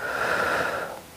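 A strong, steady breath pushed out through the mouth during a muscle-strengthening workout, held for about a second before fading, heard alone with no talking.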